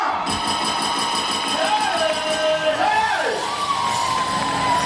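Crowd at a live gospel music performance in Nakuru, with cheering, whoops and yells rising over sustained music and a gliding tone, loud and continuous throughout.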